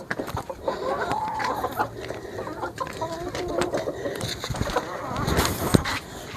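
Several hens cluck and cackle near a farmyard coop as they are let out, a busy overlapping chatter of short calls with scattered wing and movement noises close by.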